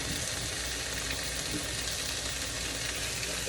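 Bragg's liquid aminos hit a hot pan, setting off a dense, steady sizzle that fills the short moment at close range with no voices.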